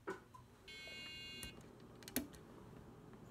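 A simple home alarm system sounds a steady electronic beep tone for under a second, followed by faint clicks and a sharp tap over quiet room noise.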